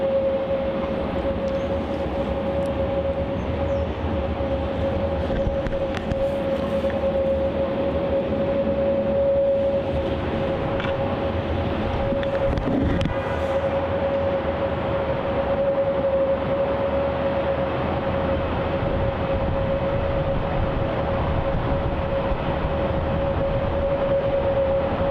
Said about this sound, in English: Singapore A380 is now about to land on runway 34.